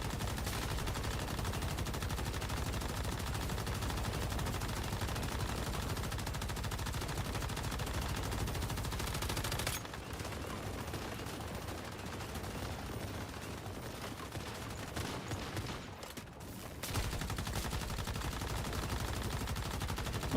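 Rapid, sustained automatic gunfire in the Once Human video game as a world boss is shot: dense, loud bursts that run almost continuously, with a brief lull in the middle before the shooting resumes, and no talk.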